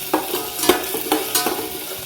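Finely chopped ginger and garlic sauté in hot oil for a chicken stew, a close, continuous sizzle with repeated spoon scrapes and stirring knocks at a loose, uneven rhythm, no voices.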